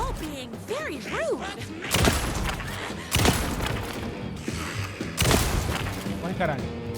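Three loud, sharp gunshots go off at intervals during gameplay in Alan Wake 2, amid other rumbling game sounds and a voice at the start.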